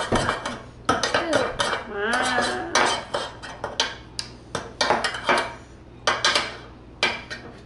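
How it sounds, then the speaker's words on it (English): Colored shaving cream paint being stirred in plastic containers, repeated clinking and scraping taps in irregular bursts, close and fairly loud, with a voice briefly exclaiming between the stirring. "So I'm just mixing the colors"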